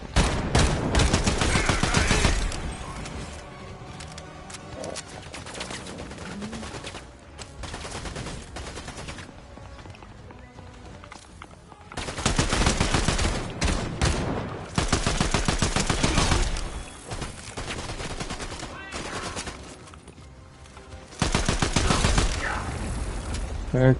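Gunfire in the video game Fortnite, with dense rapid bursts of shots in loud stretches broken by quieter gaps, a player's voice talking over parts of it.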